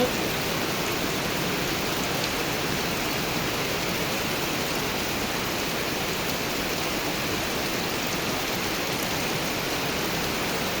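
Heavy rain pouring down around a rural home, a dense, even hiss of drops with water running off steadily, constant and enveloping with no voices.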